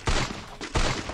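Gunfire in the battle-royale game Free Fire: two loud, close broadband bursts about 0.7 seconds apart, each a sharp blast with a short tail, and no talking over them.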